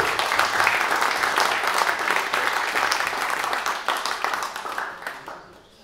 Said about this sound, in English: So give him a nice round of applause,